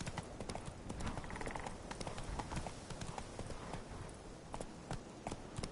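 Hooves of the horse Roach clop steadily in The Witcher 3, a continuous quick rhythmic clatter at moderate distance with faint game ambience.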